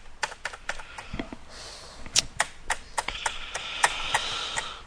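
Keys clatter on a computer keyboard as a router command is typed, quiet, uneven bursts of close clicks with short pauses between them.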